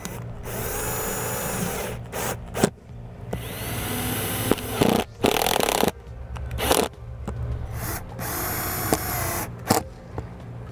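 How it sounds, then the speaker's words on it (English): A power drill drives kit-supplied self-tapping screws into the side of a 2009 Forest River Sunseeker RV while a Solera slide-out awning is mounted: close, loud whirring bursts of uneven length, separated by short pauses, with no talking. "we can start at the end with some of the self-tapping screws came in the kit and begin putting them into the side of our camper"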